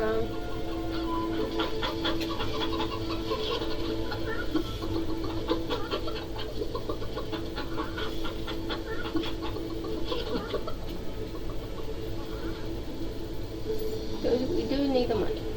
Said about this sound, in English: So I'm trying to feed chickens around.